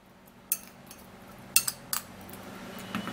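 A spoon mixing a home remedy mixture for skin tags in a small container, with a few scattered clinks and scrapes against the dish, sparse and close, with quiet pauses between.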